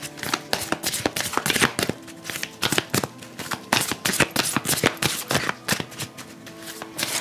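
Oracle cards are gathered and shuffled by hand in quick, uneven bursts of papery riffling and slapping, close and clear with short pauses between rounds.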